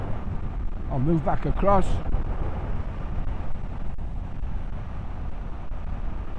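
A 2023 Honda CL500 Scrambler motorcycle rides at 70 mph. Steady low engine and road drone mixes with strong wind buffeting, and a rider speaks briefly over it.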